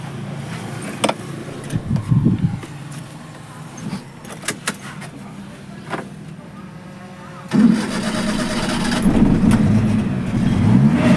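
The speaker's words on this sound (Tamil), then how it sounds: "இன்ஜின் ஸ்டார்ட் பண்ணி காட்டணும் பாருங்கள்" A Maruti Omni van engine cranks and catches, then settles into a steady idle after a few short clicks and thumps.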